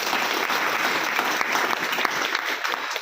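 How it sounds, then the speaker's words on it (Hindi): Thick, continuous applause from a seated audience at an RCM business success talk, cheering for L.M. Pandey; loud, steady clapping throughout the short stretch with no pause. "मैं जोरदार तालियां चाहूंगा उनके लिए।"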